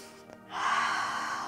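A deep, forceful breath drawn during a Wim Hof breathing exercise, rising into a sustained airy rush after a brief quiet start, close and clear with no talking.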